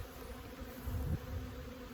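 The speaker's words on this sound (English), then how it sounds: "you can see the bees trying to get into wherever the entrance is not" Bees buzz around an opened hive, a low steady hum that swells briefly in the middle, close and moderately loud, with no talking.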